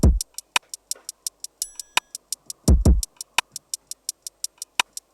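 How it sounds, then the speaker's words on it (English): A sparse, simple programmed drum groove for a beat plays alone, with crisp hi-hat ticks in a steady pulse and occasional deep kick hits. "I just put some drums down, sound like this."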